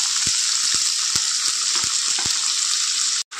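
Potato, onion and green chili frying in a pan, giving a loud, steady hiss with a few light scraping taps from stirring before the sound cuts out abruptly near the end.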